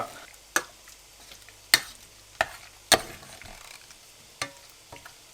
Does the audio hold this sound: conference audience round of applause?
no